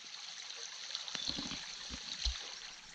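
Creek water flows over bedrock in a steady, soft rushing trickle, faint and continuous, with a few nearby splashes and knocks from someone stepping across.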